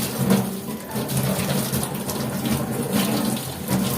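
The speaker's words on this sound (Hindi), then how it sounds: "और जितने भी मेरे ये स्पॉन्ज हैं इनको अच्छे से धोकर रख दूंगी" Kitchen sponges being washed under a running tap, a steady, loud splashing gush of water with irregular surges as the sponges are handled, and no talk.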